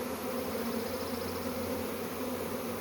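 A swarm of bees fills the air with a steady, dense buzzing hum, faint and continuous with no other sounds.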